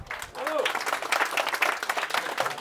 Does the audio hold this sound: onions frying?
no